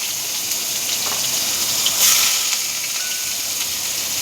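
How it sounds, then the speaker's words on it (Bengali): Onions dropped into hot oil for a rohu fish recipe, giving a steady, fairly loud sizzling hiss that swells briefly midway, with no talking. "প্রথমে দেব পেঁয়াজটা। তেলটা গরম হয়ে গেছে"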